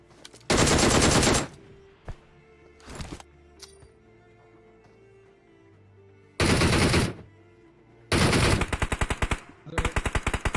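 Video game gunfire in long, loud automatic bursts, with several separate volleys broken by quiet stretches and a few single shots, the last bursts choppy and rapid.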